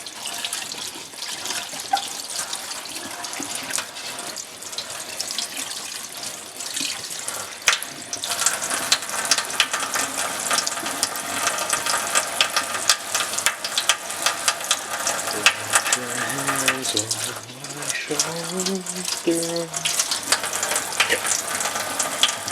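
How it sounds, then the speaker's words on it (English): Tap water runs continuously over a Honda S2000 exhaust tip during reconditioning, a steady close splashing rush with metallic clinks and rattles, and a brief tonal squeal partway through. "Rinse it off one more time."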